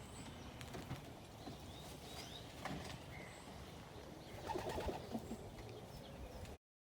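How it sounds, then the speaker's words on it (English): A homing pigeon on a farm gives soft, low cooing calls, faint and intermittent against quiet outdoor background noise, with a slightly louder cluster of calls near the end. "this is a homing pigeon"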